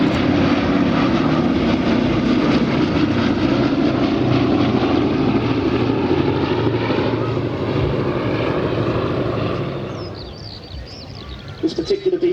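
The 1945 California-built Boeing B-17 Flying Fortress "Sally B" drones overhead in a flying display at Biggin Hill, a loud, sustained rumble of piston propeller engines that slowly fades as the bomber passes away.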